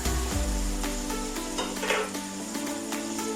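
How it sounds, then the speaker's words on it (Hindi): Fried rice mixture for chicken Manchurian gets stirred in a hot pan, with a steady sizzle under scraping and clinking of a spoon against the metal, close and alone without speech. "अब सारी चीज़ों को मिक्स कर लेते हैं।"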